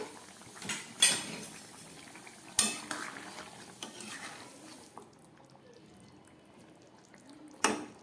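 Metal pot lid handled over a pan of fish curry simmering on low gas, giving a few sharp clanks and scrapes spaced out over a quiet background of soft bubbling.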